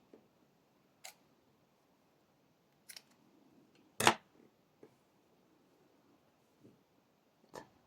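A few sharp, quiet snips of scissors cutting crochet yarn, isolated clicks spaced out over a near-silent background, one louder cut in the middle.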